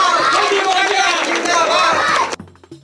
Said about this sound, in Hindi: ताली बजा दो, चलो जोर से जोर से।